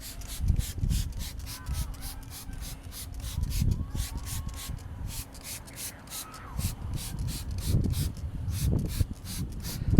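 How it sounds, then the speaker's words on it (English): A brush scrubbing a car tire rim during cleaning, heard as repeated close, rhythmic rubbing strokes in uneven bursts, with no speech over it. "See how this rim cleans up when you scrub it."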